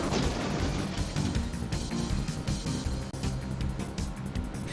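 Missiles striking the player in the video game Thunder in Paradise, a dense continuous barrage of explosive blasts and crashing impacts, loud throughout with no pauses.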